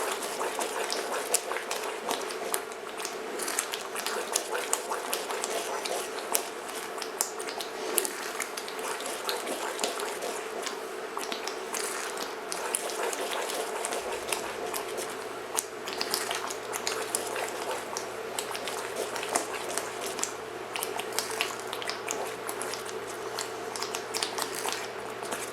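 Greek semolina halva thickens in a deep pot, bubbling and popping continuously at a soft, steady level while a spoon stirs through it, producing faint scraping and clicking.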